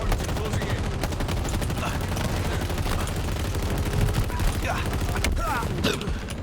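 Turret gunfire in the video game Halo Infinite, a dense, sustained rapid burst of shots with sharper impacts near the end.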